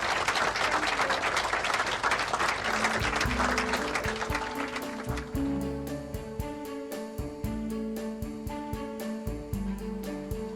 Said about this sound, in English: Another round of applause for the women of the Hub Community Kitchen